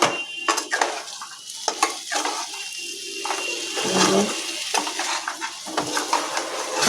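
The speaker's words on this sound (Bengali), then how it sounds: "এখানে আমার পটল আলুর তরকারিটা কষা চলছে।" Potato and pointed gourd curry being stir-fried in a pan, with a steady sizzle, scraping of a spatula and occasional clinks of utensil on metal, close and continuous without talk.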